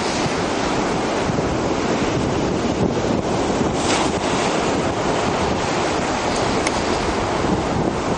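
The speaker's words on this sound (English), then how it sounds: "You can see how the water's coming around it, washing up, and maybe even hear it once in a while." Ocean surf washes steadily around the end of a beach groin, a continuous loud rush of water heavily mixed with gusty wind buffeting the microphone.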